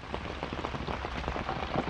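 Heavy rain pours on a tent in a jungle camp, a steady dense patter of drops on the surface, fairly soft and continuous throughout with no voices.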